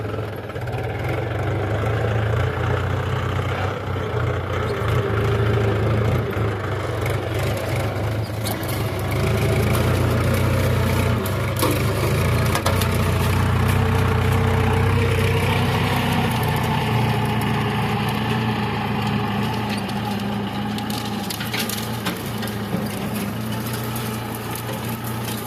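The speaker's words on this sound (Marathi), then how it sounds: "ट्रॅक्टर चालू करा पडतं मित्रांनो" A Mahindra 475 DI tractor engine runs steadily at a low, rumbling idle for the whole stretch, close and loud with constant vibration.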